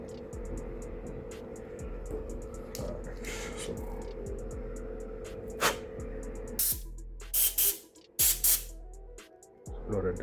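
An airbrush sprays a coating onto buttons, giving a steady close hiss with short bursts and stops as the trigger is worked.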